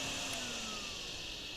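Drain Sim game vacuum sucking up water: a steady, loud whooshing suction roar with a slight falling whine, continuous for under two seconds with no talking.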